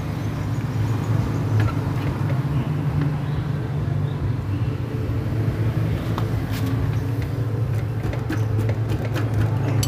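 Yamaha Vega RR motorcycle engine running steadily with a knocking fault, a continuous low rumble with faint irregular ticks throughout and no talk.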